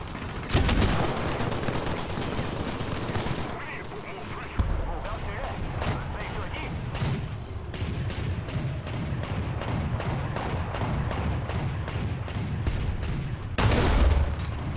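Gunfire in War Thunder, with an anti-aircraft vehicle in play, rattles in rapid repeated bursts with a few heavier booms, loud and continuous under occasional talk.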